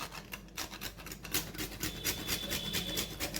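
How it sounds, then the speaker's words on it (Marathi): Whole nutmeg is grated for pumpkin gharge dough, producing a soft, continuous rasping scrape with a steady back-and-forth rhythm, close up and faint. "त्याच्या आधी मी थोडंसं जायफळ खिसून घेते"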